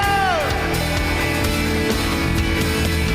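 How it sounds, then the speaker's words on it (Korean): A church congregation shouts praise to God during a Korean worship service, a loud sustained roar of voices and yells over organ-like music that holds steady throughout. "하나님께 함성 올려드립시다"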